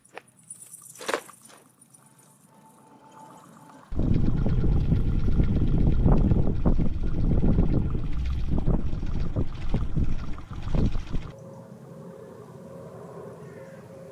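A motorbike powered by a Stirling engine being ridden at higher speed: after a quiet start with a brief tone, a loud, steady rushing rumble of wind and engine noise holds for about seven seconds, then drops to a softer, lower hum.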